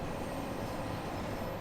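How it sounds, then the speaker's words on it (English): A London Underground Bakerloo Line train in Train Sim World 2 gathers speed on a downhill stretch, giving a steady, dense rumble of running gear and motors, loud and continuous throughout with no voices. "as you can see, the train is picking up some speed"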